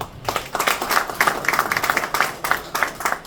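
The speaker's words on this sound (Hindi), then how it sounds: "यह पहला है, इसके लिए तालियां होनी चाहिए" A small group claps in quick, steady rhythm for a few seconds, close and fairly loud, with a faint voice underneath.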